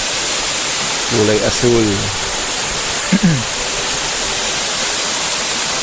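Batlag Falls roars in a steady, loud wash of rushing water that fills the whole scene, while a person speaks briefly over it.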